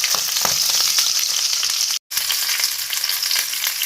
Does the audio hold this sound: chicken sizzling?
yes